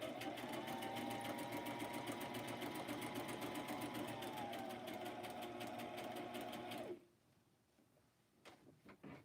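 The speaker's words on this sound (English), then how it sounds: "I got two sewing machines" A sewing machine stitches a hard cover in a steady, loud, fast-rattling run for about seven seconds, then stops abruptly, leaving faint handling clicks and small knocks.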